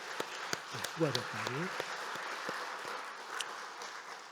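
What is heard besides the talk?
audience applause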